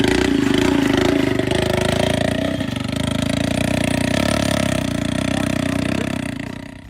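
A homemade motorcycle built with a log for its body runs its engine loudly and close by, a steady buzzing drone with slight rev changes that eases off at the end.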